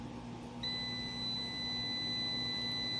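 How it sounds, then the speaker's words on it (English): A 3 kVA 24 V MPP Solar inverter with a built-in MPPT charger gives a single continuous high-pitched electronic beep on power-up, starting suddenly and holding steady over a faint background hum. "It's beeping"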